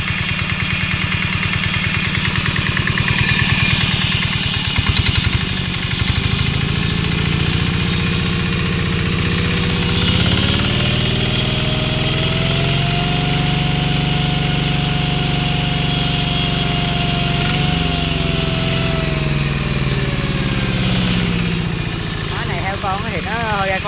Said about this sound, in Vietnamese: chạy như cái máy rất là êm